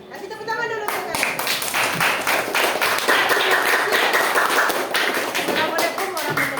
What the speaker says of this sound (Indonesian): Kasih tepuk tangan dulu untuk kalian.